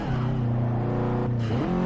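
A racing car engine in Forza Motorsport 6 drones loud and steady at high revs after a downshift, its pitch dipping briefly and then climbing again, with no voices.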